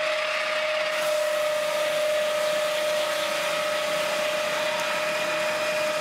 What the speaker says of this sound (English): the world's first and only automated swing blade mill